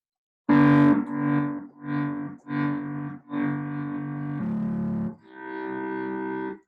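Korg MS-20 synthesizer playing a sustained tone with a slow, opened-up attack that swells like strings, a series of separate held notes with soft onsets and gaps between them, loud and clear with no talk.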